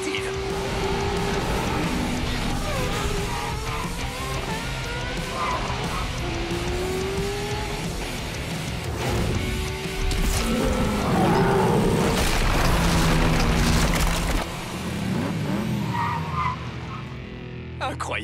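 A toy-like sporty car tearing around Hot Wheels City, tires squealing in long skids over a revving engine, with people talking loudly over the screeching throughout.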